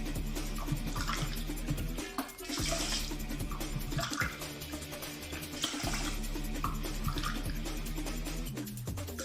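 Water pours into a pot of sushi rice for maki, a continuous rushing, splashing flow that is fairly loud and close, with short dips partway through and no talk.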